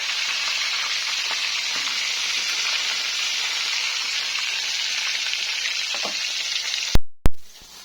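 Meatballs (pentol) sizzle continuously in hot oil nearby, a dense even crackle with occasional louder pops, ending in two sharp knocks as the pan or utensil is handled.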